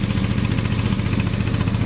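A 1943 Lauson air-cooled engine on an Army Air Corps Stewart Warner ground heater unit runs steadily, a close, loud, rapid rhythmic chugging with a constant beat and no voices.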